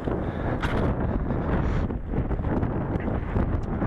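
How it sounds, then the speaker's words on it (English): Strong outdoor wind buffets the microphone in a loud, continuous roar with gusty swells, at an open field with a clear area of land used for flying a plane. No voices are heard. "Where's the wind coming from?"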